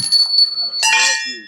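A temple bell rings at a village festival, giving a bright, sustained metallic tone that swells into a fuller, clanging ring near the end, close by. Faint voices and ambient noise sit underneath.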